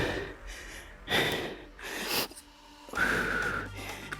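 Heavy, forceful breaths come in bursts during a bodyweight Animal Flow HIIT workout, with sharp snorting exhales and gasping inhales spaced about a second apart, close up and without speech.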